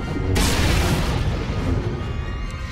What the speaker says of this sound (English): Critical explosions detected on the foundry level.